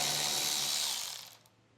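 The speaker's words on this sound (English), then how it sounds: "It's going to be a 10mm socket on each side to remove that." A socket wrench ratchets a 10mm bolt out from under a vehicle's taillights, a quick steady run of clicks close by that fades out and stops within two seconds.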